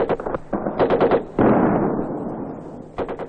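Vietnamese Ranger live-fire training with real bullets overhead: loud bursts of automatic gunfire and single shots in quick rhythmic volleys, close and dense, with a sustained rumbling blast in the middle and another rapid burst at the end.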